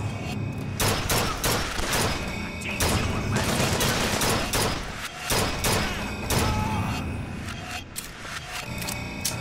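Bursts of gunfire rip through a firefight in Bioshock Infinite, sharp repeated shots and rapid volleys coming in clusters over loud, continuous combat noise, with no talking over them.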